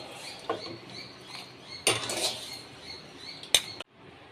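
Green chillies dropped into a steel mixer jar, with a few sharp clinks and light rattling taps spaced apart over quiet background, close and fairly faint.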